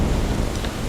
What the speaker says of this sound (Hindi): कमरे में सिर्फ बारिश की आवाज़ गूंज रही थी।